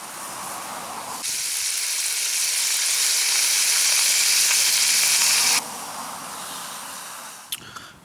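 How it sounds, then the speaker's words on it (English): Bacon hits a hot pan at a stealth camp on a bike tour and sets off a loud, sustained sizzle that runs for several seconds and then abruptly drops back to quieter hissing, with a small clink near the end. "I think we're going to fry up some bacon."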